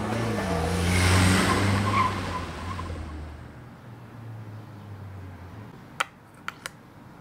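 An animated film's car engine revs and turns with a tyre squeal, loud at first and then fading away, followed by a few sharp clicks.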